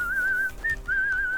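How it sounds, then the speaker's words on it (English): In Kingdom Come: Deliverance II, set in the fortress of Nebakov, a character whistles a clear, sustained high tune in two drawn-out phrases split by a short chirp, with a faint bed of ambience underneath. "You keep on whistling."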